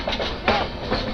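A train rolls past on the Vijayawada bypass line, a loud, steady rumble of wheels on rails with clattering rhythm, close by and with no voices.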